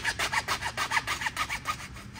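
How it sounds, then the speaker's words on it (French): A handsaw cutting off the broken end of a 4-inch well pipe during a deep-well pump replacement in Mexico: about a dozen brisk, even back-and-forth rasping strokes, close and loud, with no talking. "Donc là, il recoupe proprement l'embout qui a été cassé."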